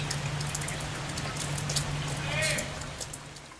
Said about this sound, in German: regnet es.